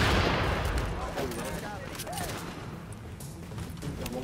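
Gunfire in the video game Tom Clancy's The Division: a dense burst of rapid automatic shots opens loud and close, then rattles on more faintly under background game noise.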